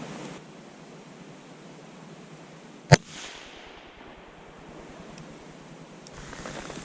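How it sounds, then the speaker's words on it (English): A single sharp gunshot from a Heritage Rough Rider .22 Long Rifle revolver fired outdoors at a book target, one brief crack standing out over a steady windy background hiss. "let's take some shots at it. First up again, Heritage Rough Rider with the 22 long rifle"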